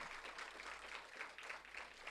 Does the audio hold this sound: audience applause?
yes